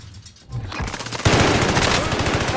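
Rapid bursts of automatic gunfire in the video game Warzone 2, loud and close, building from a few shots into sustained rattling fire that continues to the end.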